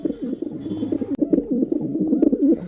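Desi pigeons at a Saturday rural pigeon market in Shariatpur coo in a steady, overlapping low burble, close and continuous, with a sharp click partway through.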